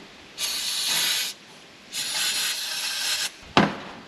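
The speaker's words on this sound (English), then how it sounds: "got this can of electronic cleaner. We're just gonna spray that in there" Two long hissing sprays from an aerosol can of electronic cleaner, each about a second, followed by a short sharp burst at the end.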